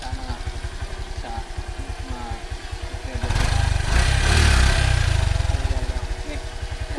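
A motorcycle carrying a load on the back, heard on a mountain farm, idles with a fast, steady putter close by, then revs louder for a couple of seconds before settling back to idle.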